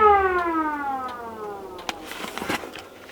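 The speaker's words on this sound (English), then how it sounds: "and then the siren" A loud, close siren wails and winds down in pitch, then gives way to a few sharp clicks and rustling.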